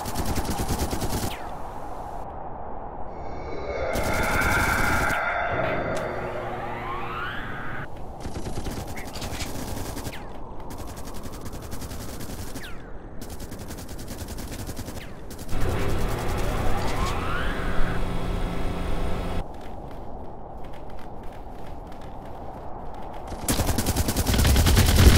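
Bursts of automatic gunfire and scattered shots from The Red Solstice, a squad-based sci-fi strategy game, rattle across the battle with siren-like tones and effects mixed in, loud and busy throughout.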